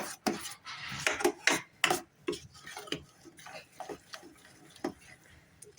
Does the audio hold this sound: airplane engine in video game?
no